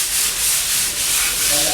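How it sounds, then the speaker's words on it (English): Steady rhythmic scratching of sandpaper rubbed back and forth by hand on wooden steps, close and loud, in smooth repeated strokes. "Sanding, sanding, sanding, sanding. Really trying to get a lovely smooth finish on the steps."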